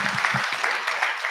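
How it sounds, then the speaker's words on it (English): Brief burst of audience applause at a community talk on growth in Union County and Marysville, dense even clapping lasting just over a second. "Please join me in giving them another round of applause"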